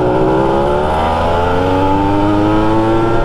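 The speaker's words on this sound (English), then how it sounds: "There's just something about getting on an old two-stroke motorcycle, an old two-stroke street bike" An old two-stroke street motorcycle from the 1970s, about 48 years old, revving loud and close, a steady buzzing engine tone climbing slightly in pitch throughout with no voices.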